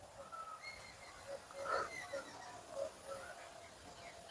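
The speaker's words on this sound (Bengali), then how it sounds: "কুলের বাগানে একদম পাখিদের সব কোলাহল।" Birds twitter and chirp among the trees of a jujube orchard, scattered faint calls over quiet outdoor background.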